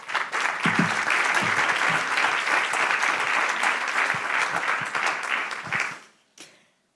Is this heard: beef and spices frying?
no